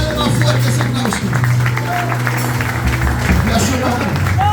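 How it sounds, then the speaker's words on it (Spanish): A church congregation applauds during a sermon, a broad wash of clapping from a large crowd mixed with voices and some tonal sound, loud and continuous throughout. "Dale, dale, dale más fuerte ese aplauso."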